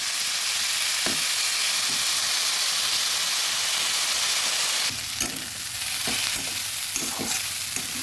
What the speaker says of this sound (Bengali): মুসুর ডাল আর সবজি ভালোভাবে ভেজে নিচ্ছি